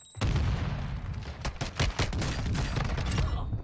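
Gunfire from the video game Warzone 2 comes in a loud, close volley of rapid shots. The cracks are irregular and overlapping and last about three seconds after a sudden start.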